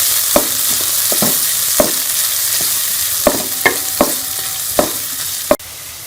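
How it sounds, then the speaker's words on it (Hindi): Onions frying in a spoonful of ghee in a kadai give off a steady, close sizzle, punctuated by sharp metallic clinks from a spoon stirring against the pan at irregular intervals. "1 चम्मच घी डाल लिया। अब हम इसमें प्याज शामिल करेंगे और प्याज को हम लाइट गोल्डन कर लेंगे।"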